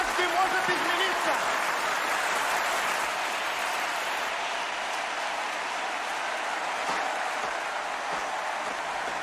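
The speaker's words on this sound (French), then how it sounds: "Même les Russes applaudissent devant autant de propagande." An audience applauding during a broadcast, steady dense clapping that sounds somewhat distant and even, continuing without a break and with no clear voices over it.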